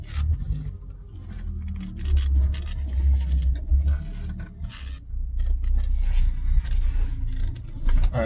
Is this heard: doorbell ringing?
no